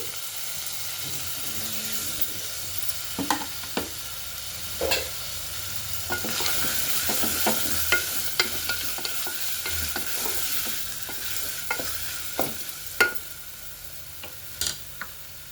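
Tomato and cabbage fry in a pan for a broad bean biryani, giving a soft continuous sizzle with repeated sharp scrapes and knocks as a spatula stirs them.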